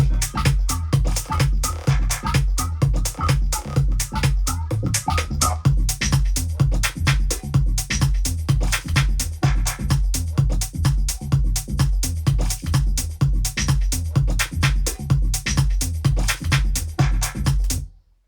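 A full minimal deep techno track plays with a steady pounding kick and bass pulse under layered hats and synth textures for about eighteen seconds, then cuts off. No one talks.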